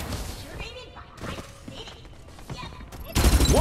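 Gunfire rattles in the mobile battle royale game Farlight 84, quick bursts and thumps amid game sound effects, ending in a louder dense volley, with an announcer voice heard over it.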